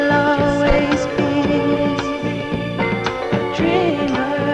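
A record plays on 1977 BBC radio: full, dense pop music with steady instrumentation and sung vocals, loud and continuous throughout, with no talk over it.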